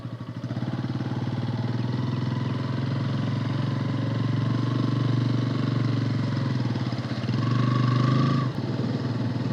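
Motorcycle engine running on a ride: a steady, throbbing mid-pitched hum with a constant rhythmic pulse, close and continuous, rising slightly near the end before a brief dip.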